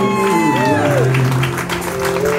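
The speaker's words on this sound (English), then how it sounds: "put your hands together for Brandon and his mom on their Mother's Sunday" Wedding guests clap for a mother-son moment at a reception, their applause sitting underneath loud music with sustained melodic tones and a voice, the clapping partly masked by the song.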